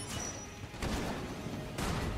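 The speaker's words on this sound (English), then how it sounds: "Nice explosion!" Explosions in the bullet-hell game Enter the Gungeon come as two loud, noisy blasts about a second apart, over continuous busy game sound.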